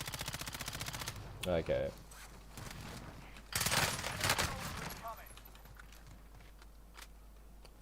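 Rapid automatic gunfire from a weapon in the Warzone video game, bursts of repeated shots with a pause, close and loud, with someone talking over the shooting.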